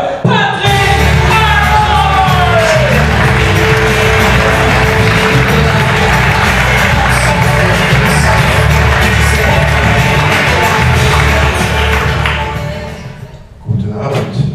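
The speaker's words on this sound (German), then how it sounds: "Klatscht ihn auf die Bühne, er wird nur wenige Schritte brauchen. Applaus für Patrick" Poetry slam audience in a bar claps, whoops and shouts loudly for an arriving performer, a thick roar of crowd noise that stays strong before dropping away near the end.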